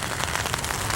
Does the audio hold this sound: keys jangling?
no